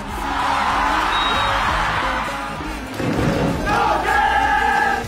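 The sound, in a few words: crowd applauding and chanting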